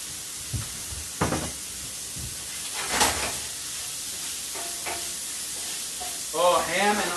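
Ham and onions fry in a pan with a continuous close sizzle and hiss, broken by a few utensil clacks and scrapes, while a person talks over it.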